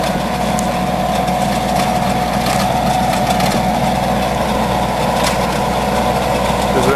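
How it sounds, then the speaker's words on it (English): A Howard rototiller, about 48 inches wide, runs on a 35-40 horsepower Kubota tractor in a large field, its engine droning steadily and loudly throughout with a constant low rumble and no pauses. "This is a Howard rototiller."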